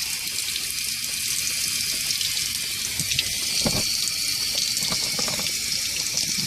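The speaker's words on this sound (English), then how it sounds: "Just let it go ahead and drain now." Water from the cleared front A/C drain of a Honda Prelude runs out in a steady trickling splash, moderately close and continuous, with no talking.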